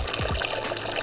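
Drained oil, looking watery, pours steadily out of a BMW F30 335i's N55 engine in a continuous liquid splash, close and alone.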